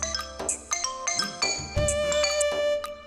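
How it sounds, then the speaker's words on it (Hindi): A mobile phone ringtone plays a bright, chiming electronic melody of repeated tonal notes, fairly loud and close, with no talking over it, in a South Indian horror romantic thriller film. "रिंगटोन अच्छी है।"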